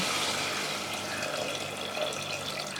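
Water pours steadily into a pot of simple yellow dal for dal tadka, a continuous splashing rush heard up close and alone for a few seconds.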